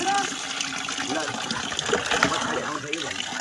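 Water pours over a dog during a bath, a steady gushing splash close by at low to moderate level, with people talking over it.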